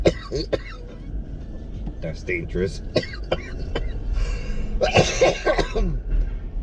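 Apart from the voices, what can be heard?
coughing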